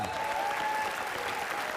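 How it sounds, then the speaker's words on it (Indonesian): Studio audience applause on a TV game show, a brief, even burst of many people clapping at steady intensity, slightly distant and without talk. "Tepuk tangan Mbak Afi."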